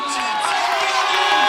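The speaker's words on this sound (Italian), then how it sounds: "applausi reciproci tra i due angoli" Crowd noise at a Muay Thai match, a dense steady wash of clapping and cheers as both corners applaud, loud and continuous throughout.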